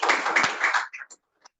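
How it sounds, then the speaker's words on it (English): A conference audience at a sustainable buildings summit applauds in a short dense burst of clapping that quickly thins to a few scattered claps and stops. "Don't know if you're picking up on all the applause"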